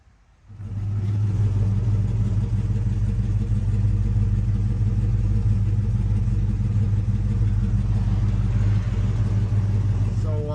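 A 1968 Dodge Super Bee with freshly done brakes runs steadily after starting up, its loud, close engine rumble holding an even, unbroken drone to the end.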